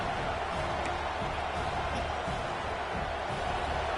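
A football stadium crowd at an Ohio State game fills the air with a steady, dense roar, distant and unbroken, with no clear standouts and no talk on top.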